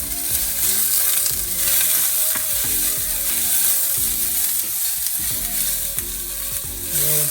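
Onions sizzling in a hot pan for an Indian curry, a bright continuous frying hiss with repeated scraping and stirring strokes over a low background hum, no voices.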